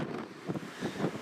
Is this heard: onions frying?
no